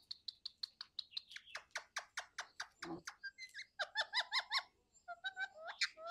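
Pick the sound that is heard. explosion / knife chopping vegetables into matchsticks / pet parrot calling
pet parrot calling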